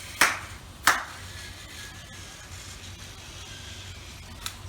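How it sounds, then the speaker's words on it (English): Two sharp hand claps close to the mic, about half a second apart, used to trigger the demo mode on a Thames & Kosmos robotic pet kit, followed by a faint electronic ping and quiet room tone. "the best way to demo it quickly is to clap twice"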